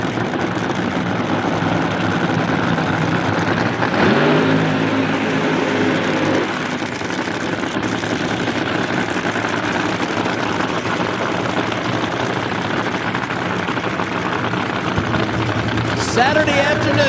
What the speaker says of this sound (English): Saturday afternoon, funny cars at Mo-Kan Dragway, the Labor Day Weekend Classic